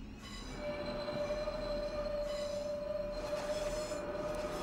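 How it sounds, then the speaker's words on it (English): Long train on the South Western Main Line in Train Simulator 2020, running with a continuous rumble, a sustained high wheel squeal and a rolling clatter, heard close and steady. "Got a long train for this"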